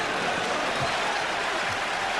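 A basketball arena crowd at a 1990 Knicks–Bulls game roars in a dense, continuous wash of noise with no break, broadcast-style and steady for a couple of seconds.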